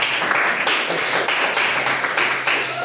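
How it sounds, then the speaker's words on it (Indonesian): Students in an Islamic studies classroom clap together on cue, loud rhythmic group clapping with regular accented beats, close and alone without talk. "tepuk tangan semua"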